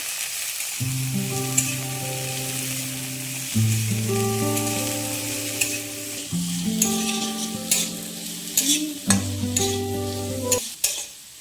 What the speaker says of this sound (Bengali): তারপর সেগুলো ভালো করে ভেজে নিও।